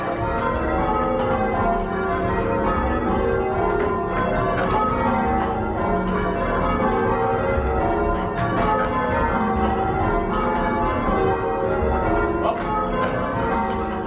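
Church tower bells in change ringing, seven bells in a triples method with the tenor sounding a steady anchoring beat, a dense continuous peal of overlapping rounded strikes and ringing overtones at close range.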